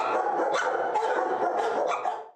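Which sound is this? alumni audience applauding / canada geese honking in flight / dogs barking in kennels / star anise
dogs barking in kennels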